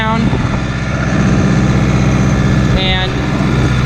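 A Case JX85 tractor engine drones loudly and steadily while mowing a field, with a radio playing over the constant mechanical hum.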